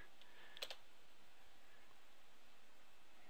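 A single keystroke on a computer keyboard while entering points in surveying software, a brief crisp tap standing out over a steady background hiss.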